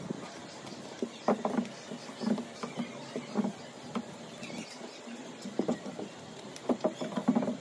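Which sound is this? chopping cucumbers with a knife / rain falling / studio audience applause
rain falling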